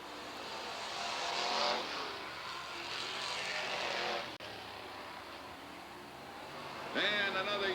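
Race cars at Southern Oregon Speedway roar past at a distance, engines swelling and fading in waves with a surging rev near the end, under a faint background of announcer talk.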